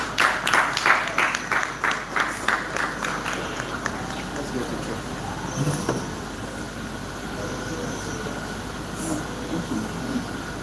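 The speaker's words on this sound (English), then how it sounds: "Let's clap for Jesus." A church or lecture audience claps in a burst of loud, rapid applause that fades into scattered softer clapping and room noise.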